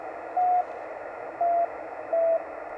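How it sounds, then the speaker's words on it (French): A Morse code beacon from the Xiwang satellite comes in over a radio receiver: three steady, evenly pitched beeps of similar length, spaced about a second apart, over a constant band of radio hiss. "le signal du satellite est capté. Donc ça c'est la balise."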